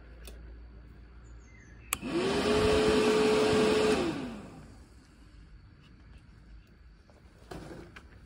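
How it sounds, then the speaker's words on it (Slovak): SPAL electric cooling fan mounted on a BMW oil cooler switching on with a sharp click, whirring loudly at a steady pitch for about two seconds, then spinning down and fading away. "Tu je vetrák. Na olejovom chladiči."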